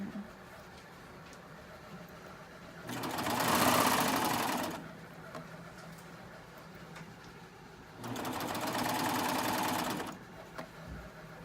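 A Baby Lock serger stitches fabric in two sustained bursts separated by a few seconds of quiet, whirring loudly and close with no talking over it.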